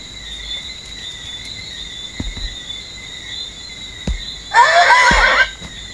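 A horse on a ranch lets out a short whinny near the end, heard over steady insect chirring and a few faint thumps.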